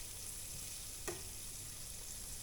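Shrimp fry in a shallow layer of oil in a pan, giving a steady bright crackling sizzle throughout, with one brief soft knock midway and no voices.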